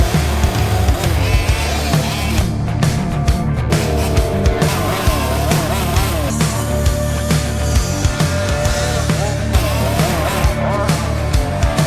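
An MCD radio-controlled car, started up and driven outdoors, gives off a loud, continuous, buzzing engine roar that rises and falls in pitch the whole way through.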